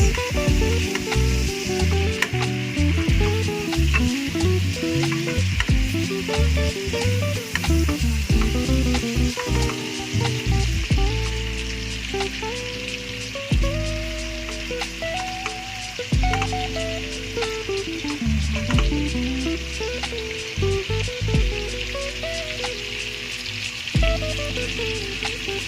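Beef biryani with spices is stirred in a frying pan, a constant loud sizzle with repeated scraping strokes of the utensil throughout.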